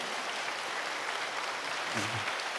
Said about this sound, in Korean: 여러분 큰 박수로 축복해 주시기 바랍니다.